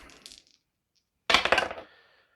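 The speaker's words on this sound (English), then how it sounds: "I throw my dice at my models" Dice are thrown onto a tabletop among Warhammer models, a small rattle followed by a louder burst of clattering tumbles that quickly settles, close and alone.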